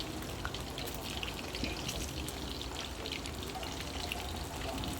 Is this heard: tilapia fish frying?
yes